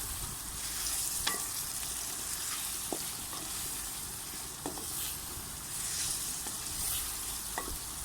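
Spiced pumpkin cooking in a pan sizzles softly while a spoon stirs it, with occasional sharp scrapes and taps against the pan at irregular intervals over a steady low hiss, heard close but quietly, without voices.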